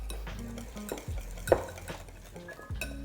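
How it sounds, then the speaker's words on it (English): Brown butter crepe batter is whisked in a bowl, a wire whisk scraping and clinking against the sides in an irregular stirring rhythm with one sharper tap midway, close and fairly quiet with no talking. "give this a good whisk until it all comes together"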